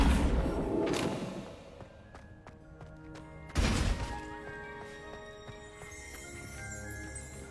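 A spell impact in the fantasy video game Hogwarts Legacy: a loud crashing burst near the middle, followed by ringing tonal game sounds and a softer whooshing earlier, with no talk.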